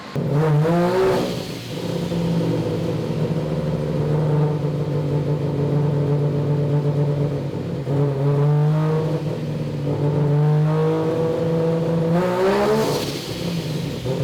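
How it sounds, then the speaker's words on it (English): A three-rotor Mazda RX-7 engine revs hard on a dyno in a series of loud, close throttle blips. Several sharp rises in pitch sit over a steady droning hum, with no talking. "I was just doing some transient throttle hits"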